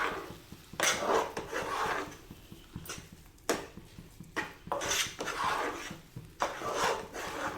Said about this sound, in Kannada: ಒಂದು ಸಾರಿ ಇದನ್ನು ಚೆನ್ನಾಗಿ ಈ ರೀತಿ ಮಿಕ್ಸ್ ಮಾಡ್ಕೊಳ್ಳೋಣ.